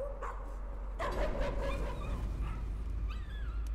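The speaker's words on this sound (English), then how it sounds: "Damn, that dog big as hell." A big Great Dane in the horror video game Layers of Fear gives a few deep barks and whimpering yips, close and clear over a steady low hum.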